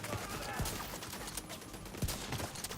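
Turrets firing in The Division 2, a few sharp gunshot bursts spaced across the moment with a constant game soundscape underneath, moderately loud and close.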